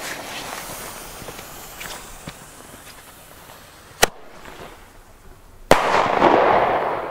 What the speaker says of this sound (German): So, die aktuellen Flashbang jetzt im Test.